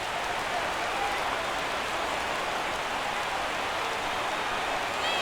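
Dense, continuous roar of a baseball stadium crowd of over 37,000 cheering in the video game MLB 17 The Show, loud and unbroken throughout with no talk.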